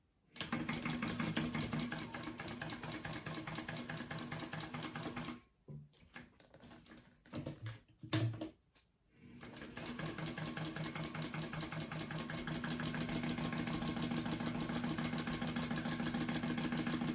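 Sewing machine running steadily as it stitches a quarter-inch seam on a crossbody bag, with a brief pause and a few short bursts in the middle before the continuous close whirring resumes.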